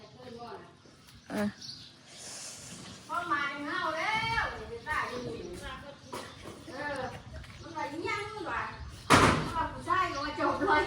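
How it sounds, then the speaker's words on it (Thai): A door is opened with a sudden sharp clack and rattle near the end, while people talk over a background of noise. "เปิดประตูให้ลูกค้าแม่ทางนั้นนั่น"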